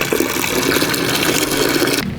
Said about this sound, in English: So we've got running water here.